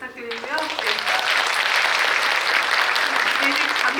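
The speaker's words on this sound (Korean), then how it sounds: "일단 두 분에게 박수 좀 부탁드리고요" Audience at a Korean film talk event for the movie Revolver applauding the actors, with a brief voice at the start before sustained, even clapping fills the room.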